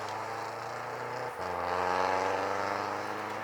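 Renault Megane RS engine idles in the engine bay, a steady low mechanical hum with a brief dip partway through before settling back to an even drone.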